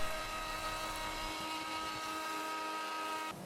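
A power drill drives screws to fix a glued, thicknessed and sanded plank top onto a wooden drawer chest, giving a continuous high motor whine with steady tones that cuts off near the end.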